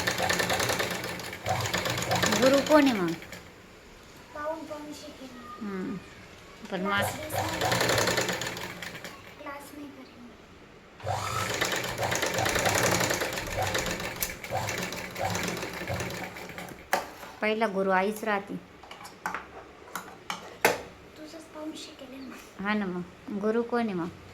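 A motorized sewing machine runs in bursts of rapid whirring stitching, stopping and starting, with people talking nearby between and over the runs, at a tailor's.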